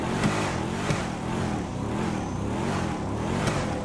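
The Coil Brawler off-road car in GTA 5 revs in rising and falling surges, its engine pitch swooping up and down steadily throughout with no talking.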